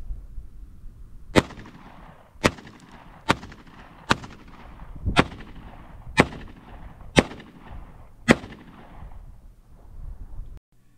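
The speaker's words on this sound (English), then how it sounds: "we decided to hit it with 9mm, 10 shots of 9mm to be exact" Eight sharp, loud 9mm pistol shots strike a DIY fiberglass armor plate at roughly one-second intervals, each crack followed by a short decaying echo outdoors.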